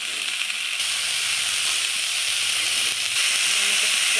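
Cauliflower and peas frying in a pan with a pinch of salt, giving a steady, close, loud sizzle and hiss that holds unbroken throughout.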